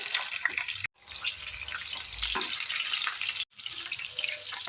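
Onions, curry leaves, mustard seeds, cumin and chillies frying in oil give a dense, steady crackling sizzle, close and continuous, broken by two brief silent cuts.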